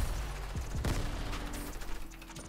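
Shotgun fire in the video game Fortnite during a trio arena match: a few quick, punchy blasts clustered near the start over steady game background noise, fairly loud and close.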